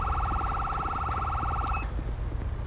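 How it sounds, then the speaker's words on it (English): A police siren on a Ford Taurus patrol car in GTA 5 wails in a rapid, pulsing yelp for nearly two seconds, then cuts off abruptly, leaving steady low engine rumble underneath. "Yep, that was my siren."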